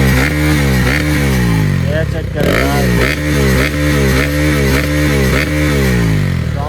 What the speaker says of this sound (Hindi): ये अपना बाइक स्टार्ट हो चुका है गाइस